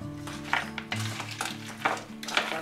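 Tomato juice and olive oil being stirred in a pot, a spoon clinking and scraping against the metal in irregular close strokes over a steady low hum, with no talk.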